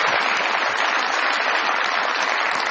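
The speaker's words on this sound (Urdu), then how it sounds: "بہت ساری تالیاں دی اس بات کے اوپر" Dense studio audience applause at a comedy talk show, steady and loud throughout with no pauses, no talking over it.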